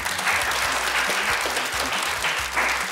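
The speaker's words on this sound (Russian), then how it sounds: "Аплодисменты." Studio audience applause on a Russian TV quiz show, a dense, even wash of clapping from a full room, loud and continuous throughout the short stretch with no voices.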